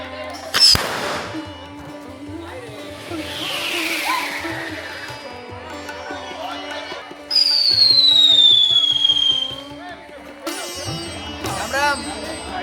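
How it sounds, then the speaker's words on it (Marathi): Fireworks go off with loud bangs and long descending whistles at a traditional Tripurari Purnima festival in Naringre village, Konkan, a crowd murmuring in the background between bursts. "फटाक्याची आतशबाशी इथे चालू आहे"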